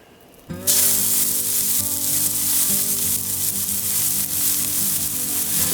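An elk burger patty hits a hot pan and bursts into a loud, close, continuous sizzle that holds steady, with a faint engine-like hum underneath.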